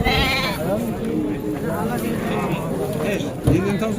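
Lambs bleat at a busy livestock market, several repeated wavering calls close by, with a louder bleat near the end, amid steady crowd chatter and people talking throughout.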